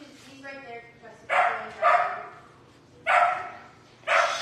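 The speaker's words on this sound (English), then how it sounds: "Because she'll bark." A puppy barks in sharp bursts at a dog grooming demonstration, four loud yaps in two pairs after a brief whine, with people talking around it.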